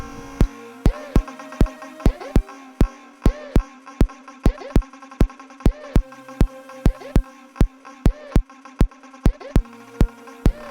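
Electronic house loop built in FL Studio and sidechained to a self-made kick drum, with steady punchy kicks on every beat making the sustained tones duck and swell in a pumping rhythm.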